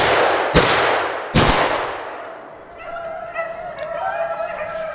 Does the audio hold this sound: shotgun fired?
yes